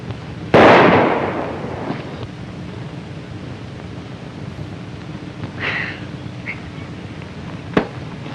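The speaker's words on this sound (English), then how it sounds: "Say, that's pretty good shooting." A single loud, sharp shot from a 1939 Western range setting, cracking once near the start and decaying into room noise, followed by faint rustles and a brief small knock near the end; no talking.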